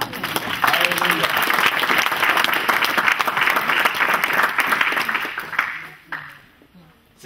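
A church congregation applauds during a sermon, a dense, sustained clapping from many hands that fills the room with cheering voices mixed in, then tapers off near the end.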